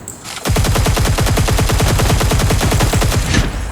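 Rapid automatic gunfire in the futuristic shooter game Cyber Hunter, a loud, dense burst of evenly spaced shots running continuously for about three seconds.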